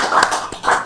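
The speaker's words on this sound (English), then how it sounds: "Can we clap for that?" Conference audience clapping in a short burst of hand claps, close and fairly loud, with uneven rhythm swelling twice.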